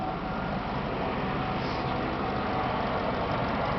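2004 Chevy Suburban engine running at idle with a faulty fan clutch, a steady, loud, continuous broadband rumble and roar with no break, heard close up and alone without talk.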